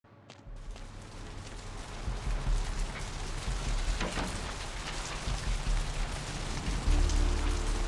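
Steady rain in the video game Vampire: The Masquerade – Bloodlines pours down on a hard surface, a dense close hiss that swells slightly louder toward the end, with no voices.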